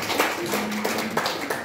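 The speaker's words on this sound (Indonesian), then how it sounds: "Tepuk tangan dulu." Audience clapping at a motivational commitment seminar, steady close claps sounding briefly together in a room.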